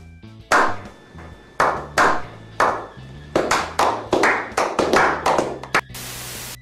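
Claps from a talk show audience come in short, sharp bursts, some clusters quick and scattered, others spaced out, fairly close and moderately loud with no talk over them, ending in a steady noisy wash.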